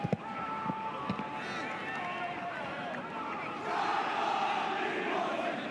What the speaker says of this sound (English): Crowd still filing in.